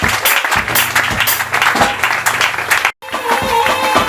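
A church congregation at a pastor's ordination service applauds loudly and steadily, with a brief cut near the end before the clapping resumes with a faint musical tone.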